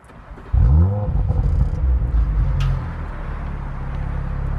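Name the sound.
car exhaust valves at idle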